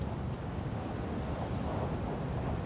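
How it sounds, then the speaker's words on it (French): Strong wind gusting outdoors, a steady loud broadband roar buffeting the microphone with a deep low rumble throughout, and no voices. "Il y a trop de vent."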